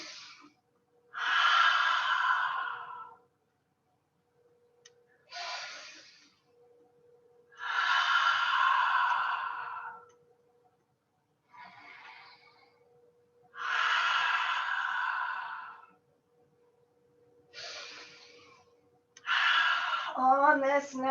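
Slow, deep breaths during a beginner yoga stretch session, four long airy exhales and inhales each lasting two to three seconds, separated by quiet pauses, close to the microphone with no talking.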